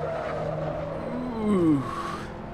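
An Alfa Romeo Giulietta in the Assetto Corsa racing game drives the Nordschleife. The engine drones steadily, its pitch sliding as the car shifts and corners, and a brief tire squeal rises and fades. No speech.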